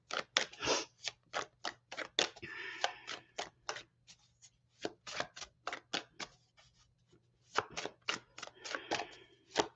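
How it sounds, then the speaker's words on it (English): Tarot cards being shuffled and drawn: a rapid series of crisp, close riffling and snapping bursts in irregular rhythm, with short pauses between runs and no talking. "Let's pull whatever card they want."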